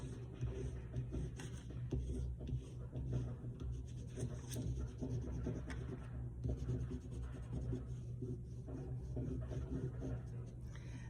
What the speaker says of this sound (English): the texture of the crayon on your paper is waxy